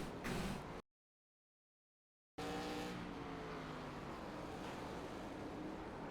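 A race car in the iRacing ARCA Menards Series spins at Tsukuba, with a steady loud engine and tire roar after a brief burst and a gap of silence.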